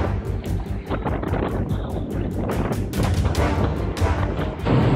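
Storm-force wind roars on a Beneteau sailboat under reefed sail in heavy swell, a loud continuous buffeting rush with gusty bursts and splashes striking the microphone throughout.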